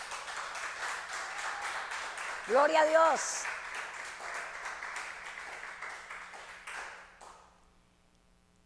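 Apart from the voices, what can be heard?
congregation applause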